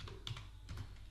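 Typing on a computer keyboard sounds close and quiet, a short burst of several soft clicking keystrokes in an uneven rhythm over faint background hiss.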